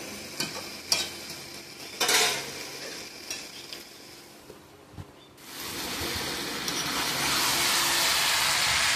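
Chicken leg pieces sautéing in a pan for chicken biryani: scattered stirring scrapes and clinks at first, then a steady, loud sizzle rising and holding for the last few seconds.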